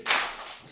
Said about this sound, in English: On 4, we all clap